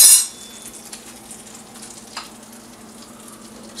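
Quiet, steady sizzling of grilled cheese sandwiches frying in a pan, with a brief clink near the start and a faint scrape partway through.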